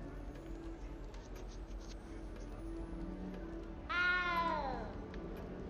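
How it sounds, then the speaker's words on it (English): A cat lets out one loud, drawn-out meow that bends downward in pitch, rising suddenly out of a quiet room's low background noise and trailing off after about a second. "that cat is meowing really loud up in here"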